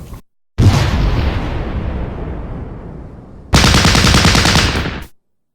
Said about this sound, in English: put some suppressive fire into them trees just in case